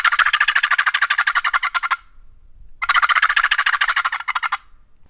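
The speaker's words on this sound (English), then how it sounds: "This call makes a great rolling, cackling gobble." A turkey mouth call with a gobbler band produces two loud, rapid rolling cackling gobble bursts, each lasting about two seconds, separated by a short near-silent pause.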